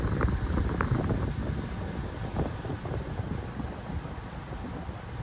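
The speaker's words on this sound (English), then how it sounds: "Windy tonight." Wind buffets the microphone in low, irregular gusts at night in an open cattle pasture, a steady rumbling roar with no voices.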